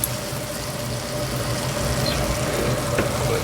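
Butter and flour cook together into a blonde roux in a pan, a steady low sizzle and bubbling hiss that holds at an even level throughout, with a faint background hum and no voices.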